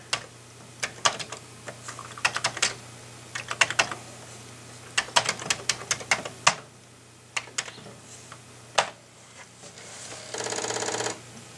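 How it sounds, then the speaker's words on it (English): Commodore floppy disk drive formatting a disk: a run of irregular, sharp mechanical clicks and ticks over several seconds, ending in a short steady buzzing burst, fairly quiet and with no talk. "So now that I've issued this command, I can actually format this disk"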